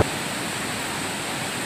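Damanganga river rushing in full flood after ten dam gates were opened three metres, a steady, dense roar of water that holds level throughout.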